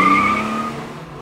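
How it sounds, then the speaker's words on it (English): V8 Hemi engine of a Bing self-driving car accelerating, a loud close whining roar with a tire-squeal edge that fades within a second, with no talking. "Just watch as our car goes from 0 to 60 in under 7 seconds."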